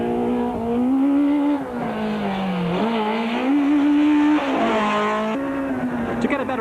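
A 1993 Volkswagen rally car races along a rally stage, its engine droning and rising and falling with gear changes, near and loud, with a brief tire scrabble and steady roar throughout.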